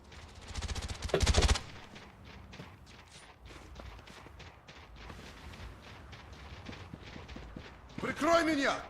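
Bursts of gunfire from a Black Ops 1 gun in the Call of Duty handheld game, rapid crackling shots repeating close and loud, with quieter clicks and game sounds between bursts and speech over part of it.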